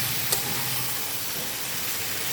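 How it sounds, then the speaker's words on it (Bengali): Green chillies fry in a pan over low heat, giving a steady soft sizzle and hiss at close range, fairly quiet and even throughout, with one brief faint clink near the start. "এবার এটাকে আঁচ কমিয়ে ভাজতে হবে"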